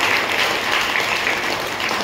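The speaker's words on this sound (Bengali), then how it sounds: "তাকেও আমরা সকলে একবার হাততালি দিয়ে" Audience applause at a church gathering, a steady, dense wash of many hands clapping together, close and sustained for the full moment with no talking over it.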